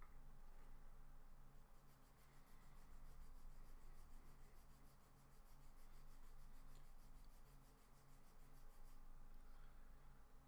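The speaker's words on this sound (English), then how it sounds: "I just need to sand that down and then we're done" Steady rubbing scrape of sandpaper worked back and forth over a small plastic Gundam model kit part, continuous and close with gentle swells in intensity, over a faint background hum.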